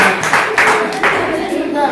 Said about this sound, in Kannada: ಶ್ರೀ ಭದ್ರಾ ಅಕ್ಷರಗಳು ಆಗಮಿಸಿದ್ದಾರೆ ಅವರಿಗೆ ಜೋರಾದ ಚಪ್ಪಾಳೆ ಕಟ್ಟುವ ಮೂಲಕ ಅವರಿಗೆ ನಮಸ್ಕಾರ